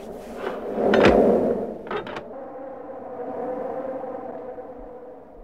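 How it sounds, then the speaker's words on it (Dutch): A door swung shut with a heavy bang, followed by a faint low creak and the quiet room fading away, no voices. "Peter gooide de deur met een klap achter zich dicht."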